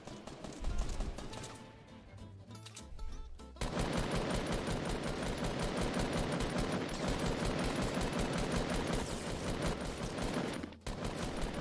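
Rapid gunfire in a Fortnite shootout between a skeleton-skinned player and a cowboy, dense sustained bursts that run almost without pause, loud and close.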